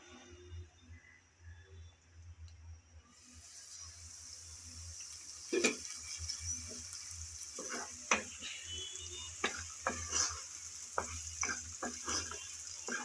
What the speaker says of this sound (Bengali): আলু গাজর কিছুক্ষণ নেড়ে চেড়ে ভাজার পর ঢাকনা দিয়েছিলাম, যাতে তাড়াতাড়ি একটু নরম হয়ে আসে।